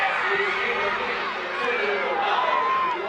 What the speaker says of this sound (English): You heard the cheer go up from the Morgan Park sideline.